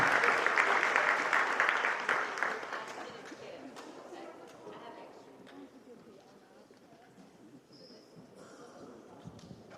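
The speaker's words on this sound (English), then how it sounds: "But one last round of applause for your FCA." A school awards assembly audience gives a loud round of applause that fades away over several seconds, with some voices underneath.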